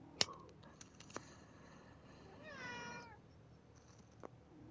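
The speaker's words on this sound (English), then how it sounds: "That's my cat." A pet cat meows once in a drawn-out, wavering call near the microphone, with a few soft clicks and taps scattered around it in a quiet room.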